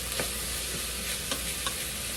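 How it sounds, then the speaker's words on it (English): Garlic sautés in a pot for lemon chicken orzo soup, producing a continuous close sizzle with a few brief scraping stirs breaking through. "We're gonna let that garlic saute for about 30 seconds."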